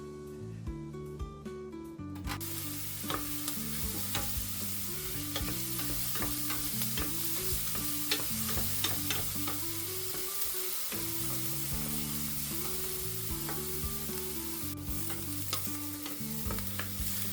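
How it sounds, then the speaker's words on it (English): Finely chopped red onion frying in a pan, with a steady sizzle under music and occasional stirring clatter. "And I will start to fry 1 finely chopped onion."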